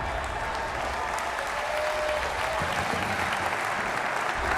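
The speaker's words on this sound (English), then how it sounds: "I get a standing ovation, and it's on PBS." Dense, sustained applause from a large audience, steady and even throughout with no talking over it.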